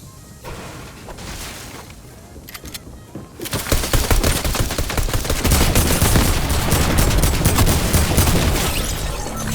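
Rapid handgun fire and bursts of gunfire in Fortnite Season 5, loud and dense, beginning after a quieter stretch with scattered shots and continuing as a sustained barrage of cracks and impacts.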